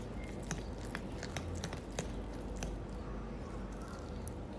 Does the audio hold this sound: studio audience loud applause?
no